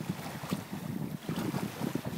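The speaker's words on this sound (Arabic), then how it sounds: "هذا صوت مياه البحر، أمواج البحر." Sea waves wash steadily against a windy background, a soft, continuous rumble with gentle swells and no voices.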